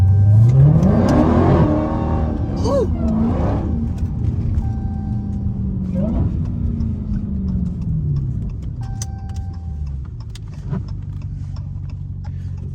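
A Dodge Hellcat idles and revs in the rain, engine note swelling and falling with a loud, steady rumble throughout, while a voice briefly exclaims.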